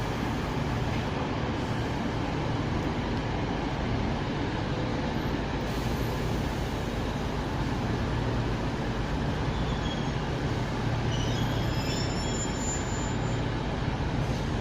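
Class 144 diesel multiple unit 144015, arriving from Huddersfield, creeps into a bay platform at Sheffield station, a steady low rumble and engine drone holding level throughout with faint higher squeals near the end and no talk.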